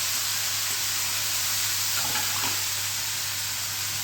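Raw garlic dropped into hot oil for a Gujarati tempering with asafoetida and chillies, giving a steady close sizzle and hiss that swells briefly partway through.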